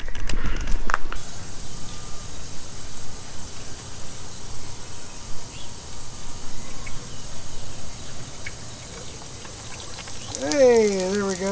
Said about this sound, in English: Alright, turn on our water.